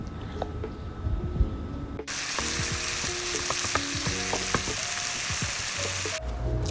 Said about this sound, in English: I had already cut my sausage into little pieces, so I'm going to be adding that now and make sure they all fry together.